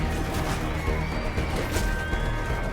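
Horses neigh amid a thick, constant din of cavalry battle in the video game Mount & Blade II: Bannerlord, the whinnies rising over the clatter without any break.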